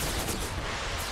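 Cannon fire in an American Civil War mod of a strategy video game: a dense, continuous barrage of booming artillery blasts filling the whole stretch, loud and rumbling with no voices over it.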